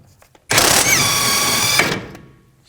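A power tool whirs continuously for about a second and a half, spinning off a 17mm sway bar link nut on a 2004-10 Toyota Sienna front suspension, loud and close, then winds down.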